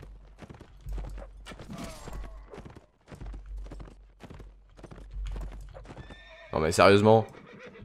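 Horses gallop in Mount and Blade Warband, with a fast run of hoofbeats throughout and a loud whinny near the end, under someone speaking French.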